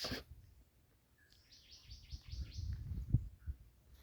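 A bird in a bush in Jamaica gives a quick series of bright, repeated chirps at a moderate distance, with soft rustling and low background noise around it.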